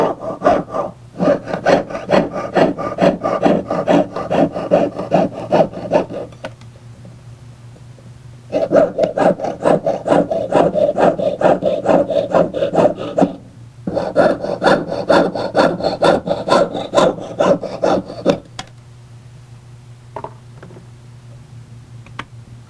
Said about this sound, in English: the metal around the pieces are sawn away, except where the tabs are holding